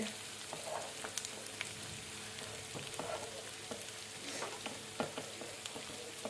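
Chopped onions fry in hot oil for a soya chunks kebab, giving a steady, fairly quiet sizzle dotted with small crackles and pops throughout, with no talking.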